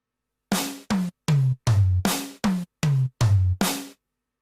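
A short pattern of nine punchy, tightly cut electronic drum hits from a Yamaha DTX6 kit, each one ending abruptly with silence between the beats.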